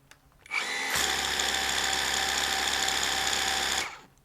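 Litheli U20 brushless pressure washer spraying through its 0-degree nozzle, a loud steady motor whine with hissing spray that starts abruptly, holds evenly for about three seconds and then cuts off.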